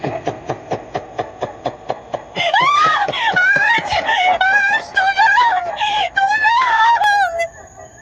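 Screaming in a narrated Filipino aswang horror story starts after a run of rhythmic pulsing beats, then becomes a loud, wavering wail and shriek that rises and falls for several seconds.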